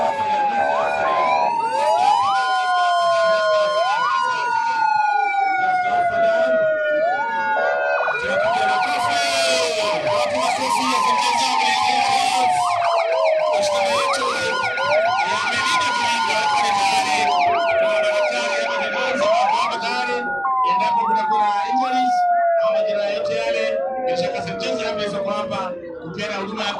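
An ambulance siren wails at a school sports opening ceremony in a stadium, rising and falling in repeated loud sweeps over about half a minute amid crowd noise.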